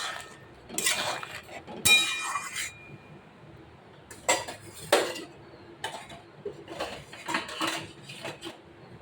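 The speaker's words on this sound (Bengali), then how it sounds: "একটু নেড়ে চেড়ে আমি ঢাকা দিয়ে দেব" A spoon stirs green papaya curry in a metal pot, then a lid is set on, giving intermittent clinks, scrapes and clanks of cookware at close range with quiet gaps between bursts.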